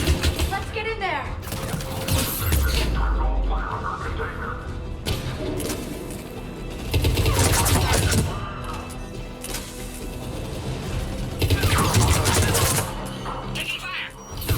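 A Mass Effect 3 firefight with loud crashing impacts and weapon fire, repeated sharp bangs over a dense battle mix while voices shout commands throughout.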